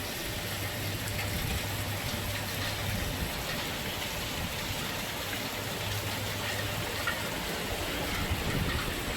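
Steady storm rain falls in San Antonio in a continuous wash of hiss and patter, with a faint low hum underneath and no voices.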